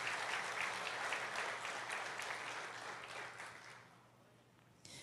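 A church congregation claps together during a worship service. The dense, sustained applause is loud at first, gradually thins and fades, then briefly swells again at the very end.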